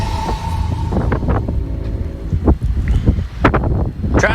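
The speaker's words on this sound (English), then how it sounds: "Trying to listen to a little bit of wind there" Gusty winter storm wind buffets an outdoor microphone, loud rumbling blasts rising and falling in irregular surges with sharp bursts throughout.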